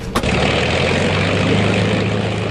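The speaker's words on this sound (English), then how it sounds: "At 10:19 a.m., a BOAC Argonaut, also bound for London, thunders down the runway." A propeller-driven BOAC Argonaut airliner thunders down the runway on its takeoff roll, a loud, steady, close engine roar with a deep throbbing drone that holds for the whole stretch.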